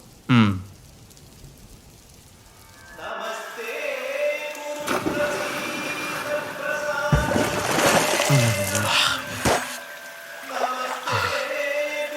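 Rain falls steadily onto a temple pond, a dense wash of patter and splashes that swells and eases over several seconds, with faint scattered background sounds.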